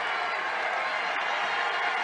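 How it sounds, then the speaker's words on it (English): Crowd cheering at a Pikeville vs Benedictine college basketball road game, a dense sustained roar of voices filling the arena throughout. "here comes the crowd again"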